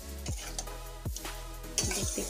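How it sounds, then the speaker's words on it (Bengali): A spatula gently stirs paneer through a thick masala cooked in very little oil, giving a few soft scraping sweeps against the pan at a slow, unhurried pace over a low sizzle. "এটা দিয়ে আমি ভালো করে নেড়ে চেড়ে নিচ্ছি।"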